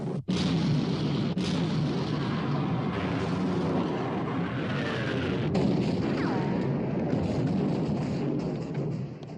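Warship guns fire in a 1960 naval battle scene from the hunt for the Bismarck, a loud, continuous barrage of booming rumbles and blasts that fills the whole stretch without pause.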